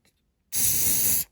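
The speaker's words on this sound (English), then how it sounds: "while I spray the activator on it" A spray can of activator is sprayed in one continuous hissing burst of just under a second, close and fairly loud, after a brief silence.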